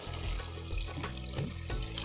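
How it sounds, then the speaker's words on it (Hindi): Water is poured into a cooking pot of potatoes, green beans and tomatoes, a steady close splashing gush that runs unbroken for about two seconds with no talk. "एक कप के करीब पानी डाला है ताकि ये गल जाए सब सब्जियां अच्छी तरीके से"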